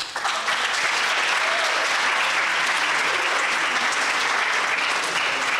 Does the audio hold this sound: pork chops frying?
no